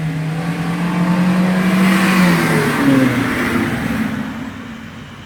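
A car engine revs up and holds a steady, loud drone outdoors, rising in pitch and then easing off toward the end.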